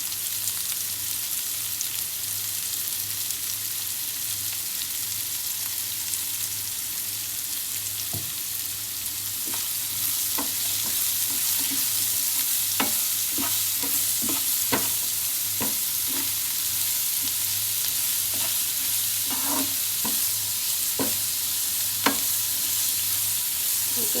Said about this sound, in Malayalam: നന്നായി ബ്രൗൺ കളറാവണ വരെ ഒന്ന് വഴറ്റണം കേട്ടോ